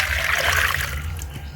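Running water trickles and splashes steadily as potatoes are rinsed, a close, continuous flow with a low background hum and no voices.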